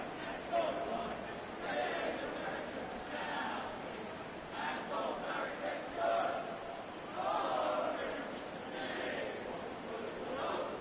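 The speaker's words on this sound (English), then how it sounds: "You can hear them singing in the background there." Cheer squad in the crowd singing and chanting at an Australian rules football match, Brisbane Lions vs Collingwood in AFL Evolution 2, a steady, continuous crowd roar rising and falling under the commentary throughout.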